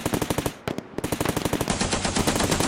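Rapid bursts of machine gun fire crack out in a tight, steady rhythm, loud and close, with a brief pause before the firing resumes, evoking a nighttime Korean War assault on a ridge.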